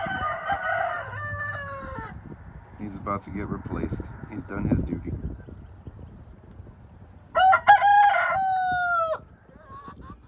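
An old rooster crows loudly nearby twice, a long cock-a-doodle-doo at the start and another later, with someone talking between the calls.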